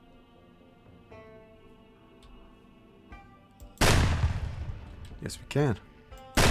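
Shotgun blasts in the zombie survival game Project Zomboid: a loud, sharp boom rips through a quiet stretch, followed by further bursts, with someone talking over the action.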